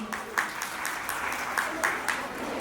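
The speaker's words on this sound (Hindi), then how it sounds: "उसके लिए भी हम आपकी तालियां चाहेंगे" Audience members at a women's society fair event clap for the AMVS team, a thin, scattered applause with a few distinct claps standing out over low background noise.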